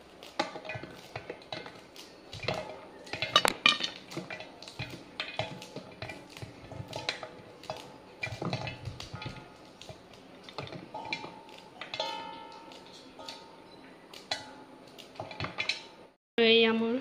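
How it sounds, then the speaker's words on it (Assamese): Knife tapping and chopping vegetables on a board in a home kitchen, sharp irregular knocks scattered throughout with clinking utensils and someone talking over them. "চব্জিখিনি কাটি লওঁ মই।"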